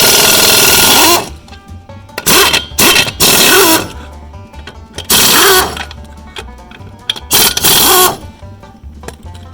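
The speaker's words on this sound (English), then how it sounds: "Step 2, remove your lug nuts." A power tool spins off the lug nuts on a lawn mower wheel, coming in loud bursts of rattling whirr that start and stop about five times, close by, with quieter gaps between them.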